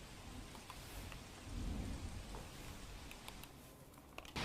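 Faint, steady monsoon rain pours down over Ahmedabad with a low rumble of thunder swelling in the background and occasional sharper drops.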